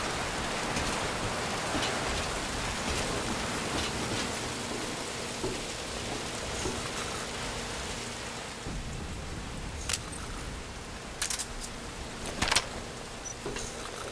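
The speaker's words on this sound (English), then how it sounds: "That rain just won't let up." Heavy rain in the video game Metal Gear Solid V: Ground Zeroes, a steady wash of downpour hissing on surfaces with scattered sharper drips and splashes, and a few clicks and knocks later on.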